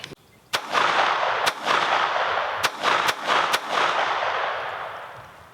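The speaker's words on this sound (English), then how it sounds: "I'm gonna take 5 more shots, kind of rapid fire at it" A Phoenix Arms HP22A .22 pistol fires at an outdoor range, five or six sharp, loud shots in quick succession, each cracking hard and trailing into a lingering echo that fades at the end.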